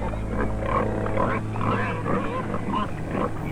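Pigs grunt and snort over a murky, noisy background, the sounds low and rough and repeating irregularly at middle distance.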